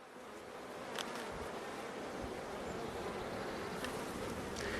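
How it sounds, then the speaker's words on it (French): Aggressive honeybees buzzing densely at an open hive frame, a continuous close swarm hum with steady intensity and occasional sharper passes near the ear. "Et des abeilles qui crèvent la misère, très agressives, qui tiennent pas le cadre."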